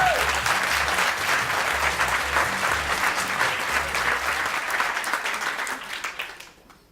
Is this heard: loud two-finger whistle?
no